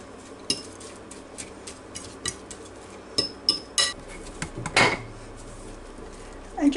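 Egg and milk stirred together in a dish, a series of quiet clinks and taps of a utensil against the dish at uneven intervals, close and faint, with no talking.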